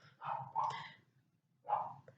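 A dog barks alone, close and fairly clear: two quick barks, a pause of about a second, then a third bark, against a quiet indoor background.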